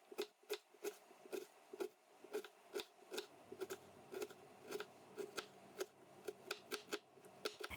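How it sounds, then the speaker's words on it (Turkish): Two large onions are chopped with a knife on a board, giving quick, regular sharp knocks roughly every half second, close and crisp, with no talking. "İç harcımız için 2 adet büyük soğanı yemeklik olacak şekilde doğruyorum."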